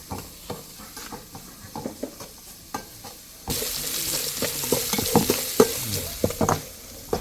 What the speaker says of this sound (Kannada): ಆನಿಯನ್ ಫ್ರೈ ಮಾಡುವಾಗ ಸ್ವಲ್ಪ ಸಾಲ್ಟ್ ಹಾಕ್ಬಿಟ್ರೆ ಗೋಲ್ಡನ್ ಕಲರ್ ಬೇಗ ಆಗುತ್ತೆ ಅಂತ